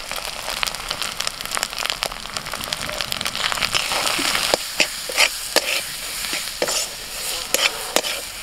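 Powdered spices (red chilli, Kashmiri chilli, turmeric, cumin, coriander) fry with ginger and onion in a pan, giving a steady close sizzle broken by frequent sharp scraping stirs, with no talking.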